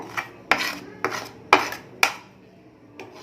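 Spoon scraping and clinking against a bowl while spices and gram flour are worked into chicken leg pieces, a handful of sharp close taps spaced about half a second apart with quiet gaps between.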